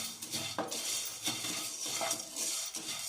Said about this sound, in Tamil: நல்லா இது ப்ரௌனிஷ் கலரில் வர வரைக்கும் நல்லா வறுத்துருங்க